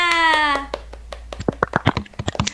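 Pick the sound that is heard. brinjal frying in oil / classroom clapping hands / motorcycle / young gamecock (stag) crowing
classroom clapping hands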